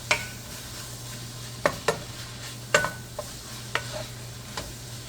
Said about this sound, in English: I'm just going to give this a mix